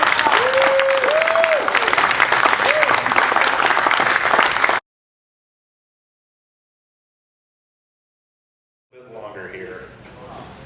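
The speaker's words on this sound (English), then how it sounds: "can I get a nice round of applause for our judges?" Loud, dense crowd applause for the judges, with a whistle rising over it, followed by silence and then quieter clapping returning near the end.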